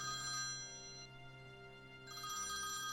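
A telephone rings on its own in a quiet room, its trilling bell sounding in two clear bursts separated by a short pause, with a low hum underneath.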